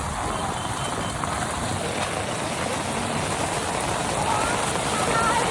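Floodwater of a swollen river rushing through Karjat during the 2024 flood, a dense, continuous broadband roar that stays loud and steady throughout.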